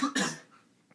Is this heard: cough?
yes